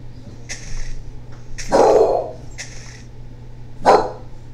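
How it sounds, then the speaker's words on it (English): A dog barking indoors in sharp, separate bursts. There are about four barks, two of them heavier and louder, with short pauses between them over a steady low hum. "So any neighbor that makes a noise, he starts barking."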